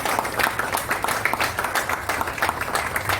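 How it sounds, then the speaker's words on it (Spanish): Audience applause for José, a book corrector, at an evening book presentation at a book fair, a dense steady patter of many hands clapping close by for a few seconds. "Un aplauso para José"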